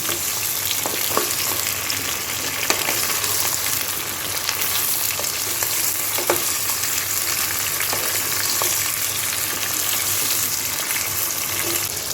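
Mango, spices and turmeric fry in oil for a mango-eggplant pickle, giving a dense, continuous sizzle with occasional soft taps of a stirring spoon.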